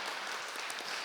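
Soft, steady applause from an audience at a comics roundtable on collectives and festivals, a faint continuous patter of many hands heard from a distance.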